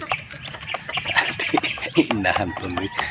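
Hens cluck steadily close by, with small chirps from chicks mixed in, and a person talks over the flock.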